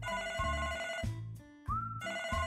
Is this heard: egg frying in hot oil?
no